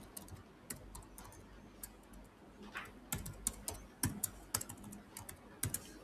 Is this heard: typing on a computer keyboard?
yes